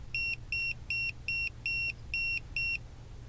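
A vehicle's tip-angle warning alarm beeps seven times in a steady rhythm, with short electronic tones repeating evenly over a low engine hum, loud and close.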